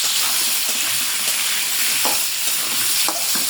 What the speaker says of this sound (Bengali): লবণ দেবো না, এইভাবেই ভাজবো।